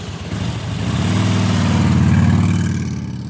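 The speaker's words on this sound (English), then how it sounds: "and Lyle hears Meth Guy's motorcycle start up" A motorcycle engine runs and builds in a steady low rumble, swelling and revving as if pulling away, loud and close with no voices.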